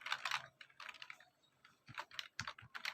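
Quick bursts of typing on a computer keyboard while entering code, close clusters of key clicks separated by brief pauses.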